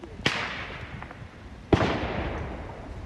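Two sharp gunshots ring out about one and a half seconds apart in news footage, each a loud crack trailing into echoing decay over an ambient background.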